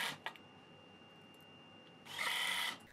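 A power tool drives panhead screws into T-nuts while a wooden straight skate ramp is being assembled. A couple of faint taps come first, then one short, close whirring burst of under a second, with no voices.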